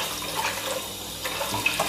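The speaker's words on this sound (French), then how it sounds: "Je le rince bien." Running water from a tap as a part of a Cecotec Matic-ccino 7000 coffee machine is rinsed under hot water, a steady close hiss of flowing water with small splashes, no talk.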